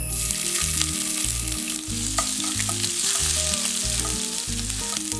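Crushed ginger frying in hot coconut oil in a pan for roasted chicken curry, a steady loud sizzle with stirring scrapes throughout, no voices.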